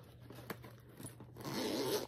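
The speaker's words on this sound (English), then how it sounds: "The zippers are really cheap, you guys." A cheap zipper on a Temu bag is pulled, giving a soft, quiet ratcheting rasp that swells into a longer zip near the end, close by.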